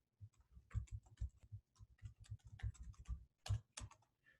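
Rapid typing on a computer keyboard clatters in close, irregular bursts of crisp key clicks, quiet and without any voices, for a few seconds.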